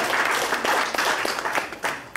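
Audience members at a church gathering clap together in a short, dense burst of applause, steady and fairly loud throughout.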